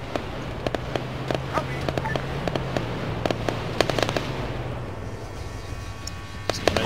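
Explosive fire in the Arma 3 video game, with repeated sharp cracks and booms scattered irregularly over a steady low rumble, some close and loud, others distant, under a busy game soundscape.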